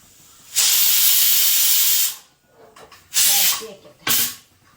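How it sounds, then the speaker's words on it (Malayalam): A loud pressure cooker whistle hisses steam in a long burst, then two shorter bursts follow after a brief pause, close and piercing. "ഒരു നാല് വിസിലായിട്ടുണ്ട് ഇനി രണ്ട് വിസിലും കൂടി ആയാൽ"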